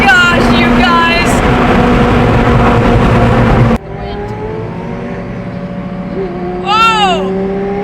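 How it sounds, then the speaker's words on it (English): A twin-turbo Lamborghini Gallardo revs hard at close range, then drops off suddenly, leaving a lower rumble broken by a sharp, rising rev burst, with loud crowd noise throughout. "Gallardo spitting flames!"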